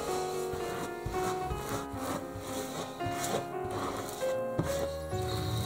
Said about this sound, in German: mit Hilfe eines Teigschabes streiche ich es dünn auf